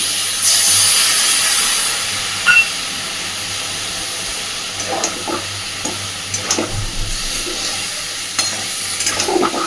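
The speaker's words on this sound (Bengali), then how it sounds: "জিরে বাটাটা দেওয়ার পরে আলু পটল চিংড়ি মাছ সব কিছুর সাথে ভালোভাবে একটু নাড়াচাড়া করে" Potato, pointed gourd and prawns get stirred in a pan with ground cumin paste, producing a hissing, steamy sizzle and a scatter of scraping stirs that grow busier toward the end, without speech.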